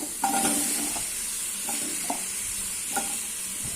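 Steady sizzling of drumsticks (moringa pods) frying in a pan, with a few soft stirring scrapes and clinks over the constant hiss.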